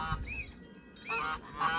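Geese honk in two or three quick calls, fairly close, with brief pauses between them over quiet background.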